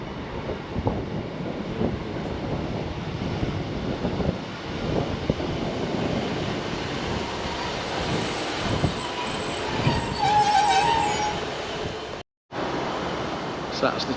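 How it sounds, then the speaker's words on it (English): A two-carriage passenger train pulls into Pontefract station bound for Knottingley, a sustained rumble of wheels and engine with faint squeals and brake sounds, heard close under a voice talking. "So here comes in this 2-carriage train to Nottingley"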